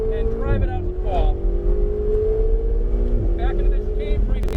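A Ferrari 488 GTB's engine drones steadily on a race track at Portland International Raceway, a sustained mid-pitched tone that rises slightly under throttle, while an instructor talks over it.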